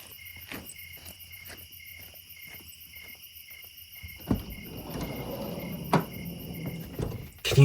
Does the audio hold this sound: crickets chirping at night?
yes